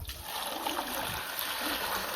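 Pet pigeons bathing, water splashing and trickling continuously at close range with no talk.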